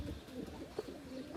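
Pigeons kept in a home coop coo softly in low, rounded repeated phrases, close by and fairly quiet, with no voices over them.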